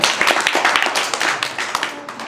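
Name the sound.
audience clapping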